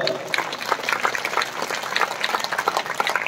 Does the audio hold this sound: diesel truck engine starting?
no